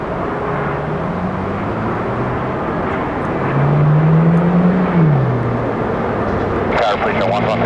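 An airliner taking off from runway 8 right at Atlanta International Airport, a steady distant jet roar that swells and rises in a whining pitch sweep midway, with voices talking over it.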